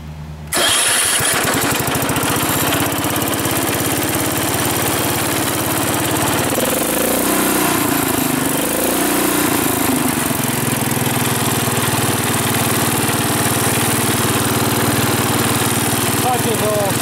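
A Wheel Horse garden tractor engine catches after a brief start and settles into a steady, loud running drone, holding close and constant for the rest of the stretch with only slight shifts in tone.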